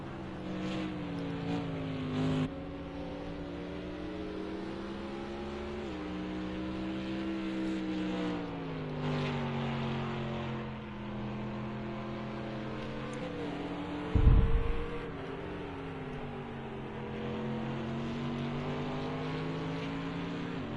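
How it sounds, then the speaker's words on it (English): In a racing video game, a silver race car engine roars down the front straightaway and into turn one, its steady high-revving drone rising and falling through gear shifts, loud and close with no talk. "He's got that silver arrow pointed in the right direction, thundering down front straightaway and into turn one"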